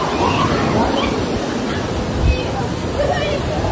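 Sea waves at Pondicherry beach roar as a constant loud surf wash, with a brief swell near the end and people talking faintly underneath.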